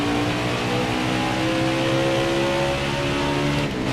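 A race car engine in a sim racing game at Homestead drones steadily at high revs, a loud continuous whine with gently shifting pitch and no talk over it.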